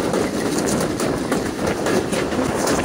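The Mongla Commuter local train runs between Jessore and Khulna with a continuous loud clatter and rattle of wheels on track, rhythmic knocks repeating through a steady rolling rumble.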